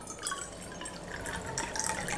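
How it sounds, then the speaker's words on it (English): Water is poured from a measuring vessel into a bowl of bread dough mix with flour and instant yeast, making a soft, close, continuous trickling and splashing. "Add the water inside."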